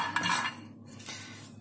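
Almonds being dry-roasted and stirred in a non-stick pan, two brief bursts of scraping and rattling as a utensil pushes the nuts around, close and moderately quiet.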